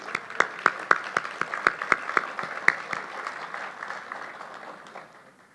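A short burst of audience applause at a mining congress, sharp separate claps at first that thin out and fade within a few seconds, moderately distant and with no talking.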